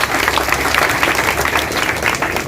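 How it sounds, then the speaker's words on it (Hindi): A crowd at an office opening ceremony claps in a dense, loud wash of applause that holds steady throughout, with no talk over it. "सभी लोग एक बार जोरदार तालियां बजाइए"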